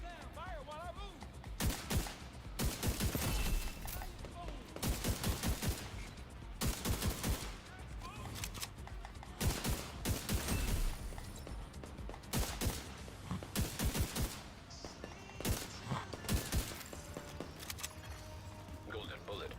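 Rapid bursts of gunfire in The Division 2, sharp repeated shots in clustered volleys across the whole stretch, loud and close, with game sounds between the bursts.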